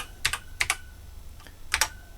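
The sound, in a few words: typing on a BBC Master computer keyboard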